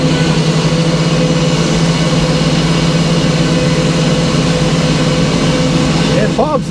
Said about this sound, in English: listening to the bus motor right now under load